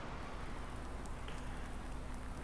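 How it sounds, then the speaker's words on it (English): Rain falls steadily in a farming simulator game, a constant broadband hiss with soft scattered drops and a faint low hum underneath, with no talking. "And it's been raining most of this morning."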